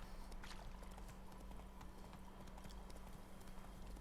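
Witcher 3's horse Roach trots along with steady, rhythmic hoof clip-clops, quiet and continuous against a faint background hum, with no talk.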